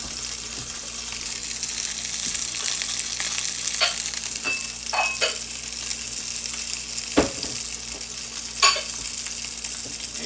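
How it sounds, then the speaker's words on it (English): Butter being stirred into a sauce in a hot pan, giving a steady, even sizzle close by, with a few brief scrapes and clinks of the utensil against the pan. "So I stir that in a little like that."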